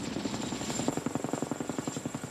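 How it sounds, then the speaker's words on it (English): Rescue helicopter hovering during a mountain hoist rescue, rapid rhythmic rotor thumps pulsing steadily and close, with a faint high whine above and no talk. "all of a sudden the helicopter's going around and around and around."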